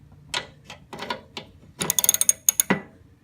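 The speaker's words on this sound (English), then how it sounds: "we have to take off these two nuts off these, be able to take and raise this off." A ratchet wrench loosens half-inch nuts on a John Deere 111 mower deck. Close, sharp clicks come first in short bursts, then in a rapid run of evenly spaced clicks, with no voices.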